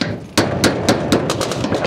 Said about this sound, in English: put our other hammer underneath it and use it as a lever. And now I can just pretty much lift it up like that